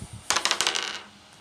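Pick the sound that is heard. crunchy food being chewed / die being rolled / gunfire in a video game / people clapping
die being rolled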